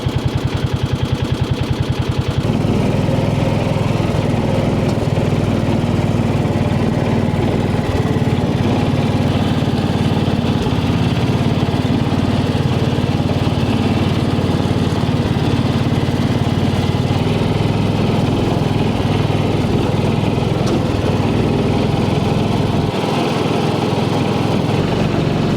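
Farmall M tractor with mower running steadily at close range, a continuous rumbling engine drone with a slight shift in tone early on, no talk over it.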